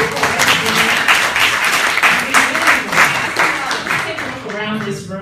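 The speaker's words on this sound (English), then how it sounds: "We'll give you a round of applause." Audience applause at a Brooklyn district attorney candidate forum, a steady wash of clapping that fills the room, with voices and a speaking voice mixed in beneath it toward the end.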